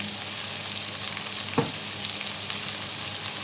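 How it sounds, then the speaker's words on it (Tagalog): Steady frying sizzle of kangkong (water spinach) adobo being sautéed with oyster sauce in a pan, a continuous close hiss with one brief clatter of stirring partway through, no talk. "And then ating i-gigisa."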